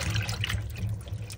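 Cauliflower lifted out of a bowl of cold soaking water, giving steady close dripping and trickling splashes that last throughout, with no voices.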